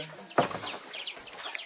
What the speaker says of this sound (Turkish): Evde tavuklar da var.